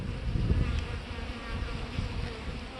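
Honeybees at a hive with swarm cells, a dense continuous buzz close up with no voices.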